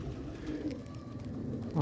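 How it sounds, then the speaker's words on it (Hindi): A Jonsra breed pigeon coos softly nearby in a loft, a low throaty murmur running under steady background noise, with one louder call near the end. "ये भी एक जोंसरा आ गया और ये भी मेरा बड़ा ही फेवरेट कबूतर है"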